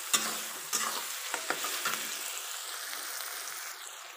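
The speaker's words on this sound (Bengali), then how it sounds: "দেখো গাইস পেঁয়াজটা ভাজা হয়েই এসছে, আর একটু খানি ভাজলে হয়ে যাবে।" Onions fry in a pan for a chicken curry, giving a steady close sizzle with a few sharp stirring scrapes near the start.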